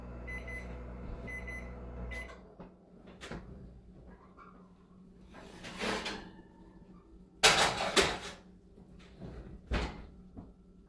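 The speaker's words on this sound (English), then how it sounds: "timer is going off" A kitchen timer beeps in a short repeated pattern at the start, then gives way to kitchen clatter and thumps from a cupboard or oven door.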